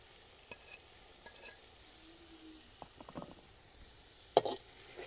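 Ground cumin and dry coriander roasting in a pan while being stirred, giving faint, soft scrapes and light sizzling in a quiet room, with a sharper clatter near the end.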